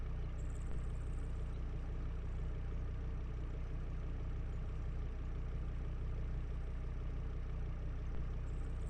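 A vehicle engine idles steadily in the Arma 3 military video game, a constant low droning rumble that holds an even level throughout with no other sounds over it.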